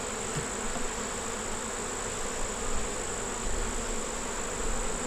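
Honey bees drone steadily around their hives at a nursery in Eastover, a close, continuous buzzing swarm that stays level for the whole stretch with no voices.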